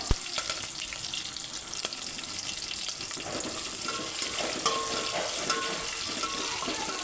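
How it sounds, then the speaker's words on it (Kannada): Garlic, cumin, mustard seeds and curry leaves fry in hot oil for a North Karnataka coconut curry, giving a steady close crackling sizzle with a few sharp pops and no talk. "ಬೆಳ್ಳುಳ್ಳಿ ಎಣ್ಣೆಯಲ್ಲಿ ಫ್ರೈ ಮಾಡ್ಕೊಂಡು"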